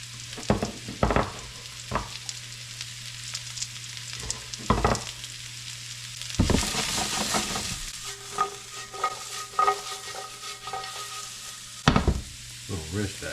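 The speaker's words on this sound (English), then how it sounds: "All right, we're gonna put our mushrooms in here. Cook up a little bit." Mushrooms frying in a pan with salt and pepper crackle in a low steady sizzle, broken by several sharp utensil clacks and a burst of stirring partway through, close and without talk.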